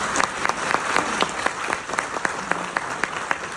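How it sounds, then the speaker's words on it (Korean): An audience at the farewell ceremony for the outgoing president of Pusan National University gives a round of applause, with steady, fairly sparse claps that are clearly distinct in a moderately sized room. "박수 한번 부탁드립니다."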